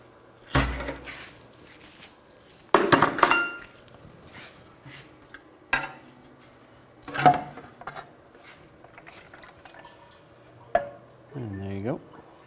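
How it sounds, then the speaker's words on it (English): A pry bar works loose the oil pan on a 2004-08 Nissan Maxima, giving several sharp metallic clanks and scrapes spaced apart over a quiet background, with a short ringing metal squeal near the end. "you can take a pry bar and just try to pry"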